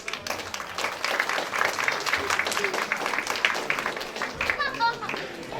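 Crowd applause for Mrs. O'Brien at a Diwali lights switch-on gathering in Derby, sustained and fairly loud clapping with children's voices and chatter mixed in throughout.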